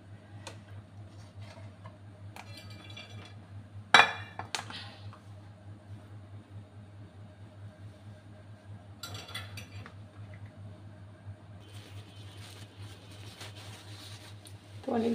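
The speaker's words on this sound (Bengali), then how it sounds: "আমি এখন বাটিটা উঠিয়ে নিব।" A bowl is lifted and clinks, a sharp ceramic knock standing out against quiet room hum, followed by a few lighter taps and scraping handling noises scattered across the stretch.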